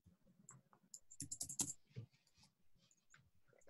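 Close, quiet clatter of computer keyboard typing in a burst of rapid keystrokes that thins out into a few scattered taps.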